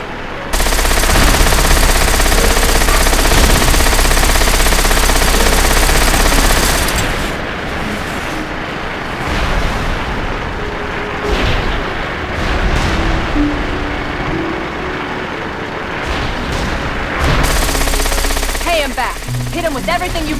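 Loud, sustained automatic gunfire rattles nearly nonstop during a ship battle in World of Warcraft, then drops back under dense battle noise while voices speak.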